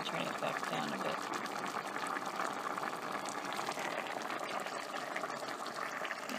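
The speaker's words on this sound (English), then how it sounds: "Oh yeah, that's boiling." A pot of carrot soup boils on the stove, giving a faint, steady bubbling and hissing texture that continues without pause close to the microphone.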